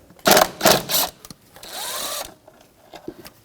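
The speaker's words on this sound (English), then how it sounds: "There is one ground wire, so we're going to have to disconnect that, 10mm socket." Tool work on a ground wire nut with a 10mm socket on a Jeep Patriot: two loud whirring bursts from a power driver, then a longer, quieter mechanical whine, followed by a few small clicks and taps.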